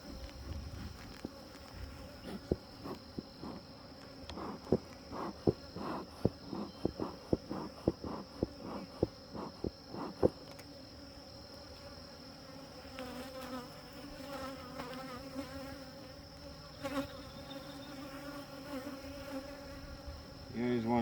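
Honey bees hum and buzz around an opened hive frame as the hive is tended, a dense continuous drone with scattered sharp knocks and taps, with bees passing close at times.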